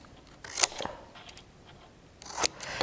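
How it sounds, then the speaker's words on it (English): Scissors snipping out paper stamp templates, a few crisp separate cuts heard close and quiet, with near silence between the snips. "George, I'm going to take my scissors and I'm going to go up and snip these out"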